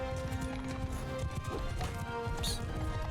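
A horse galloping in the medieval combat game Mount & Blade II: Bannerlord, with rapid, steady hoofbeats pounding close by under a droning battle ambience, plus a brief sharp crash near the end.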